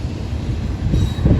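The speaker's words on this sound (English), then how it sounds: "train coming with some intermodal flat cars" A Norfolk Southern intermodal freight train with flat cars passes close by at a crossing in Duluth, Georgia, giving a loud continuous rumble of rolling wagons and a faint wheel squeal.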